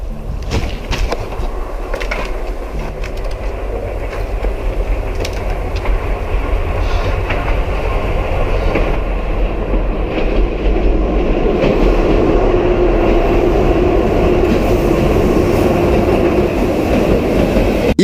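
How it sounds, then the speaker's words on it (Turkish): A train rumbles through a tunnel as it approaches, a loud, steady roar with rattling wheel and carriage noise that keeps building over eighteen seconds, with no voices. "Tam bu sırada ise uzaktan gelen tren sesini fark edip büyük bir çaresizlik yaşıyor."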